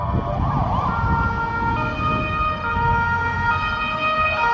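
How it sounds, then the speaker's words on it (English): Emergency vehicle sirens wailing through Warsaw city streets in the evening, several overlapping loud tones rising and falling continuously over traffic rumble. "it's city life, guys. The sound of sirens."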